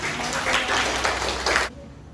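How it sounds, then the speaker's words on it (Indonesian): Classroom audience applauding a presentation group, a steady dense patter of clapping for under two seconds that stops abruptly, leaving quiet room tone. "Tepuk tangan dulu dong ya"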